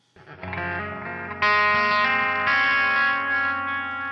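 A Quiet Theory Prelude reverb and delay pedal on electric guitar, its delay side set aggressively: layered sustained chords ring out with dense repeats and a lush wash of echo, swelling louder as new strums enter, with no talking.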